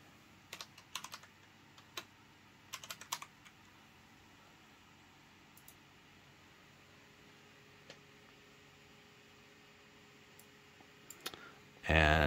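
Sparse, quiet computer mouse clicks and keyboard typing come in short bursts, with faint isolated clicks between them, while a desktop with Samsung G9 and G7 monitors is set up for triple-screen sim racing.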